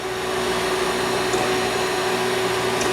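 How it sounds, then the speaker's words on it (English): A TOS Hostivar 11 x 25 inch universal cylindrical grinder running an internal traverse grind, giving a steady, even whine with a constant tone and no pauses. "I'd like to demonstrate our ID grinding in the traverse grinding section"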